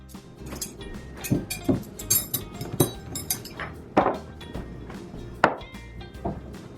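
Drinking glasses, forks and knives set down on a kitchen table, a quick irregular run of sharp clinks and clatters close by, some louder knocks among lighter metallic taps.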